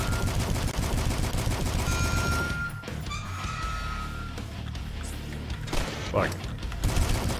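Assault rifle fire from the shooter game Dusk rattles in rapid bursts among other harsh game noises, broken by a short lull, with a man swearing briefly partway through.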